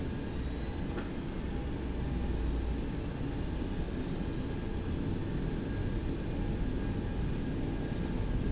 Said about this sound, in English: Do another rolling takeoff.